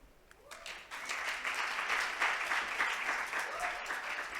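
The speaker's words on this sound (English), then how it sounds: "Now let's go with another round of applause for our fantastic debaters." An audience applauds the debaters at a session on HIV and adolescence. The clapping starts softly, swells within a second to a full steady round, then continues at moderate loudness.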